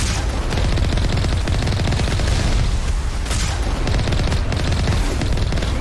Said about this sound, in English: we've also got these Geth in these towers as well. Firing rockets at us.